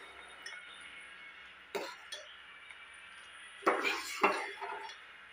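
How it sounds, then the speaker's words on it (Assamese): Milk being stirred in a pot while it thickens for a milk sweet, giving a few light clinks and scrapes of a spoon against the pot over a quiet background. "এয়া গাখীৰখিনি মই লাৰি আছোঁ।"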